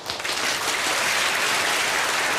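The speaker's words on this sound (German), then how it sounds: "Dann haben wir einen Applaus für den Hauptgang." Applause from the studio audience during the cooking-show finale as the main course is presented, a dense, steady wash of clapping that fills the whole stretch at fairly loud level without pause.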